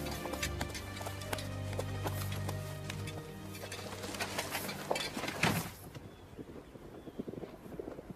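Horses' hooves clip-clop steadily on hard ground at moderate distance, with faint birdsong and some wind noise; the hoofbeats thin out after a brief louder burst midway.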